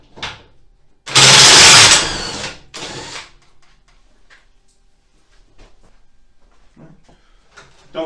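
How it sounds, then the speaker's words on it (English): Power tool whirring loudly for about two seconds while removing the gas tank bolts on a Harley-Davidson bagger, then a shorter second burst, followed by quiet clinks and handling noises. "Gotta pop off these 2 bolts here."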